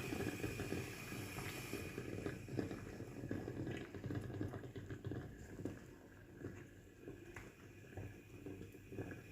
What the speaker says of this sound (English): Just let that simmer for a few minutes.